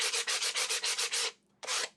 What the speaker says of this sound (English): I can sand it down.